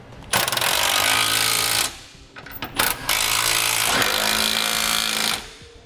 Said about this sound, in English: With all of our hardware now started, we can tighten it down. We use a 19 millimeter socket for this.